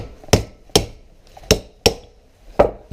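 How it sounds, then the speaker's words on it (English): A hammer strikes a Honda motorcycle carburetor float bowl in five sharp, close metallic blows at an uneven pace, each ringing out briefly before the next. "Shouldn't have to hammer on the Hondas."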